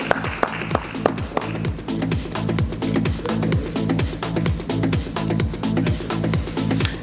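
An audience at an insurance panel discussion applauds a speaker with dense, steady clapping that starts with a few sharp claps and builds to sustained applause throughout.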